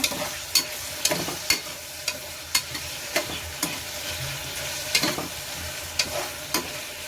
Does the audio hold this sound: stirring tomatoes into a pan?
yes